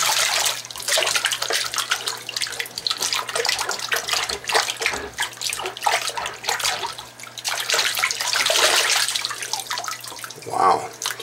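Paracord rope is swished and rinsed in a basin of muddy water, giving continuous splashing and sloshing with a running-water hiss, fairly close and steady throughout with a low hum beneath.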